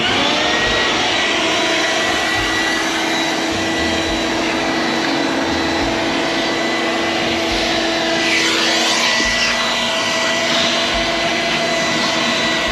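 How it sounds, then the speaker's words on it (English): A vacuum cleaner whines steadily while sucking up broken glass from inside the rear door of a 2020-2023 Mercedes GLB, a close, continuous roar with rattling debris and no talking. "I'm gonna go ahead and vacuum that"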